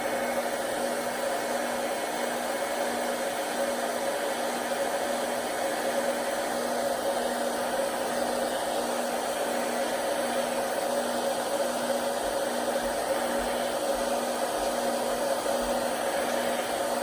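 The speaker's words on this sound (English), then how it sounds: "you can take your blow dryer in your hand" A blow dryer runs continuously with a steady whirring hum and airy rush, holding an even level throughout.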